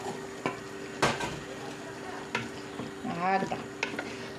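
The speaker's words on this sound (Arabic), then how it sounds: "كل حاجه نرموها نخلوها تتقلى لو كان 10 دقائق" Onions and tomatoes fry in a pan for chakhchoukha, a steady sizzle broken by a few sharp scrapes and clinks of a utensil, close, with one brief spoken word.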